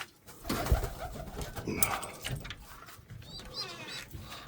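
Pigeons coo in short repeated bursts close by, with flapping and rustling from a loft where a male bird is let out to fly, and someone talks over the birds throughout.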